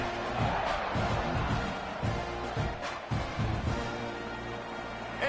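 Crowd noise fills a college football stadium just before kickoff, a steady broad roar of fans with a few louder swells, continuous and fairly distant throughout.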